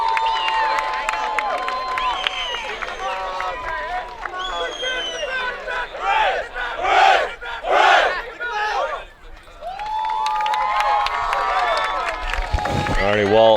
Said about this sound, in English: We'll let them get their cheer here.